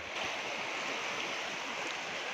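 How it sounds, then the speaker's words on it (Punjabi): Floodwater of the brimming Sutlej, fed by the Swan river, surges forward with a continuous broad hiss and churn, near and even in loudness, with no one speaking. "ਅੱਗੇ ਵੱਲ ਨੂੰ ਵਧ ਰਿਹਾ ਹੈ"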